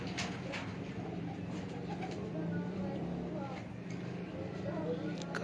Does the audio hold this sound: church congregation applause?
no